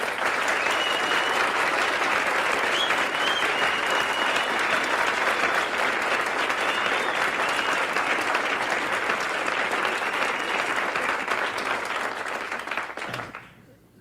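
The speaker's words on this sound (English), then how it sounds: "give one of the finest rounds of applause to him" Sustained audience applause for a young cellist fills the room, a dense, steady wash of many hands clapping that fades out near the end.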